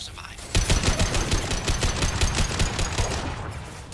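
Rapid bursts of heavy gunfire in the Mass Effect video game, set in a firefight on the colony Horizon, with repeated close shots over a dense battle din and some talk mixed in.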